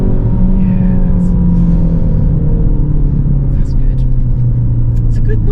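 A 2023 facelift Ford Focus ST Estate automatic on the move, with a steady deep engine rumble and road noise inside the cabin, constant and loud, while people talk over it.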